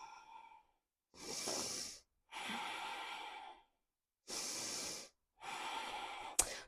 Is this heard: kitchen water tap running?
no